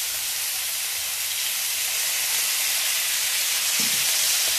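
Lamb stir-frying in a pan with oyster sauce and light and dark soy sauce, a steady, loud broadband hiss and sizzle that holds evenly throughout with no pauses.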